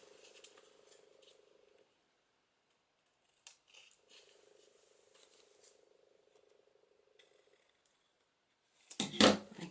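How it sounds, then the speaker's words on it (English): Scissors trim vellum paper in a few short, light snips close by, between stretches of a steady faint hum and quiet handling noises, with a louder burst of rustling at the end. "Trick is to trim it up without cutting your vellum"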